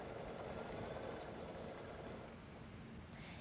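An embroidery machine runs a placement stitch on fabric, a faint, steady, fast mechanical whirring and clatter that continues without break and eases slightly toward the end.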